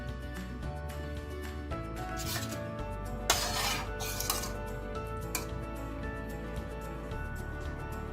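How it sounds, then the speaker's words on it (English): A Swiss chard, lentil and tamarind stew stirred in a pot, with soft scraping and rubbing of a spoon and a few louder knocks against the pot over a low background hum. "Give it a good stir, bring it back up to a simmer, taste for salt."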